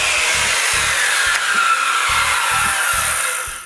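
A saw cutting through wood for sawhorse parts, with steady rhythmic strokes in an even back-and-forth pattern, close and loud, with no talking.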